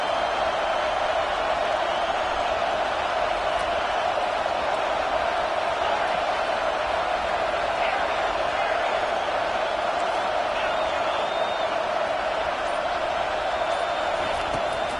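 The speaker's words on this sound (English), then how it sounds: "The roar of the crowd trying to fuel this defense to keep them pinned in their own end." Football stadium crowd roaring steadily and loudly throughout, a dense unbroken wash of massed voices that holds for fifteen seconds without any drop in level.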